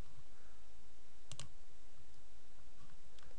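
A computer mouse gives a quick pair of clicks, close and crisp, over a steady low background hum, with no talk.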